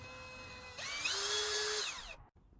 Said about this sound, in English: We ensure that we have put in the spade bit for wood, and let's get started drilling